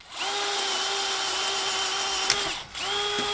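A power drill whines steadily through a steel steering knuckle, pausing briefly once before spinning up again, close and continuous.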